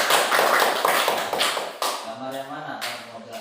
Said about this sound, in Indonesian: Tepuk tangan dulu buat Melati.